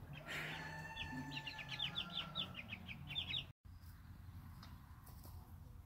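Tame backyard chickens clucking close by in a rapid series of short calls, followed by quieter ambient noise after a brief dropout.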